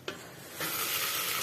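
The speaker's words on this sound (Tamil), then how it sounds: "சவுண்டு கேட்குதா, சுட்டு சுட்டுன்னு" Village-style mutton biryani masala sizzles loudly in a pot. A brief quieter stir comes first, then a steady close hiss of frying spice paste that holds for the rest of the clip.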